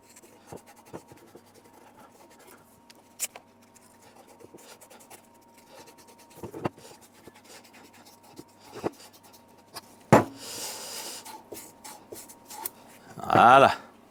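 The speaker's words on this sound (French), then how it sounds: "on va venir nettoyer tout le bord intérieur là où on va mettre la pastille de dessablage" Emery cloth rubbed by hand to clean the inner edge of a cylinder seat on a Ducati 900 with ST2 944 cylinders, giving short, close scratchy strokes with quiet pauses between them and a louder burst of rubbing near the end.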